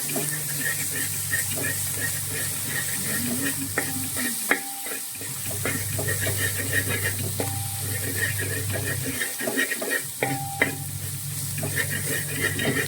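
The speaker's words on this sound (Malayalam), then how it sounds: "അരപ്പ് നന്നായിട്ട് ഈ എണ്ണയിലൊന്ന് മൂപ്പിക്കണം" Masala paste for a simple home-style chicken stew fries in hot oil while being stirred, giving a steady close sizzle broken by brief pauses and scraping stirs, with faint clinks throughout.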